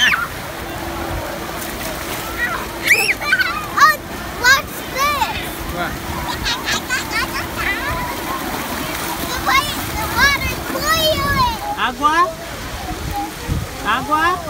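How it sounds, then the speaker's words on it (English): Water splashing at a water park, intermittent splashes and churning water under a constant hum, with children's voices and someone talking throughout. "Are you trying to splash Daddy?"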